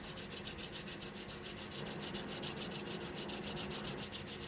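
Pencil graphite is rubbed sideways across paper in quick, steady back-and-forth strokes, a close, even scratchy rasp that continues without a break throughout.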